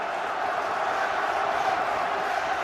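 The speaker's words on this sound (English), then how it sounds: "Watford's crowd really getting behind them now" A Watford home crowd at a Championship football match against Manchester United roars steadily from the stands, a broad sustained wash of cheering with no break.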